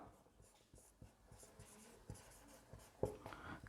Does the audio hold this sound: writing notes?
yes